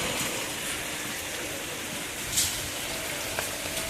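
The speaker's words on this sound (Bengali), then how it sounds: "এখনও মানে পুরো জোরেই আওয়াজ হচ্ছে, অনেক জোরেই বৃষ্টি পড়ছে" Heavy rain pours down in a steady, dense hiss with no breaks, fairly loud throughout and with only a couple of faint knocks standing out.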